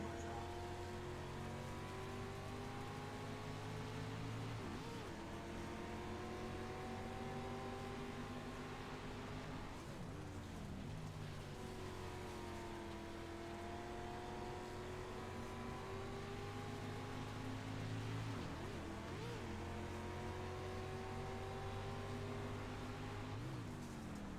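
The number 21 dirt race car, driven by Jim Revis, runs a complete lap at a Sunday Shootout dirt track race, its engine a steady loud roar that rises and falls with each straight and corner.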